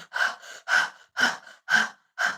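A person demonstrates panting for labour, giving five sharp, evenly spaced breaths close up with short pauses between them and no talking.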